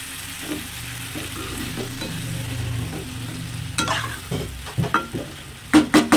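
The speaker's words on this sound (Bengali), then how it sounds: "এবার নাড়াচাড়া করে এটাকে আমি ঢেকে দেবো" Fish being stirred with salt and turmeric in a frying pan, with sizzling under repeated scraping stir strokes that grow louder and sharper toward the end.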